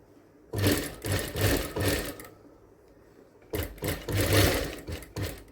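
A sewing machine stitches a blouse in two bursts of rapid, rhythmic mechanical clatter, separated by a short pause and heard close up with no voices.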